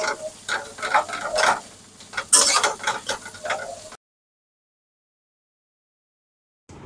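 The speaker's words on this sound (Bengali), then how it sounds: "পেঁয়াজ কুচি দিয়ে নিলাম, এটা ভালো করে ভাজা নেব" Chopped onions sizzle in hot oil in a pan, fried down to a golden crisp topping for chicken, with loud crackling and stirring scrapes for about four seconds before the sound cuts to silence.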